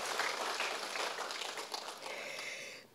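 Church congregation clapping together during a Sunday service in Manado, a dense steady wash of applause that fills the hall for about three seconds and then stops abruptly.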